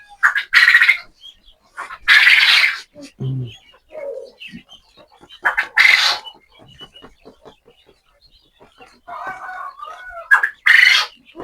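Hungry quails on a farm give sharp, bright calls in several loud bursts spread across the stretch, with quieter soft murmurs and a person speaking in between.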